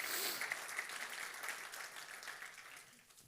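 A church congregation applauds during a Spanish-language Sunday sermon: faint, fairly distant clapping that starts strongest and thins gradually over a few seconds.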